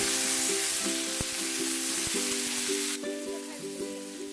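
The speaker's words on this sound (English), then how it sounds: "Then add this dry chilies and saute them for 30 seconds." Dry chilies sizzle steadily in an oiled pan with ginger and garlic slices as tomato goes in, with clanking utensil strokes over the frying and the sizzle softening after the addition.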